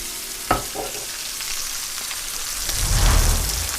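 Ribeye steak searing in avocado oil in a cast iron pan, a loud, steady crackling sizzle with a sharp tap near the start and the frying swelling stronger toward the end, close up with no talk.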